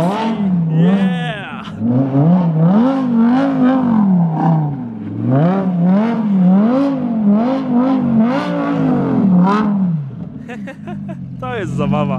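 A 620 HP rear-wheel-drive Audi R8 revs repeatedly, its engine note rising and falling in rhythmic bursts with crackling exhaust pops, loud and close, with someone talking over it in places.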